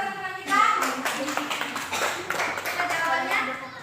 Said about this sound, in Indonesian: Kita beri tepuk tangan buat teman-teman kita.